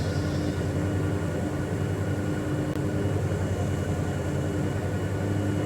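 A steady airplane engine drone from Microsoft Flight Simulator 2020 holds constant and loud throughout, with no pauses.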